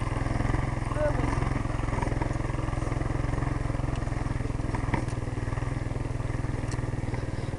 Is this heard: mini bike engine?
yes